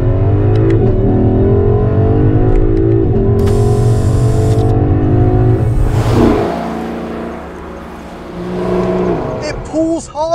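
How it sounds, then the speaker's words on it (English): A Lexus LC500 V8 revving hard, the engine climbing and bouncing off the rev limiter in loud, close, stuttering bursts before easing off, with a voice briefly heard near the end. "It pulls hard and it bounces off the rev limiter in the most dramatic way."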